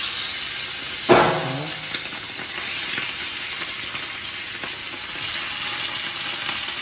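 Ribs browning in a hot pan give a steady, close sizzle and crackle that runs throughout, with a brief louder spatter near the start; no one speaks.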